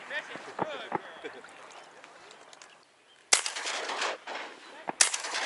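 During a duck hunt, two sharp, loud shotgun blasts ring out a couple of seconds apart in open air, each followed by a rolling echo, with people talking quietly beforehand.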